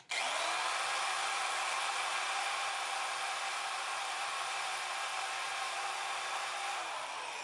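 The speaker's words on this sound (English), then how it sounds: "Now I just repeat this same process on the 1/8 inch holes for the handle pins." A power drill boring 1/8 inch pin holes through a wooden knife handle slab, one steady continuous whine running close and loud for the whole stretch, with no talking.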